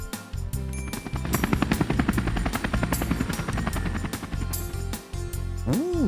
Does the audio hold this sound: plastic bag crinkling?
no